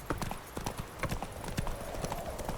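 The horse Roach galloping in The Witcher 3, a quick rhythmic run of hoofbeats on the ground, close and fairly faint, with no talk over it.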